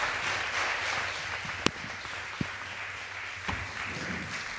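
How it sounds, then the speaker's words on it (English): An audience applauds a big band at a music event: a continuous wash of clapping with a few sharper individual claps standing out, no talk over it. "A big round of applause."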